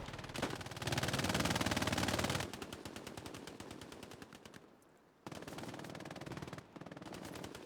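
Sustained machine gun bursts in the Hell Let Loose World War II shooter, rapid evenly spaced shots rattling in long strings, one loud dense burst then lighter fire that fades, pauses briefly and resumes, with no voices.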